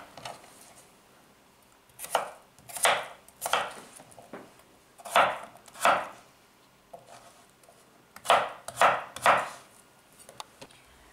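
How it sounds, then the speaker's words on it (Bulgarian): A knife cuts potatoes into cubes on a cutting board in a home kitchen, making sharp, close knocks in short bursts of two to four strokes separated by brief pauses, with no voices. "Нарязах тиквичките на купчета и сега продължавам с картофите на купчета."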